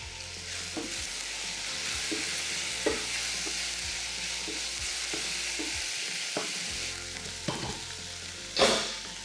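Chopped onion sizzles steadily in a pan on a home stove while cabbage-roll filling is being made, a continuous crackling hiss broken by occasional scrapes and taps of a spoon.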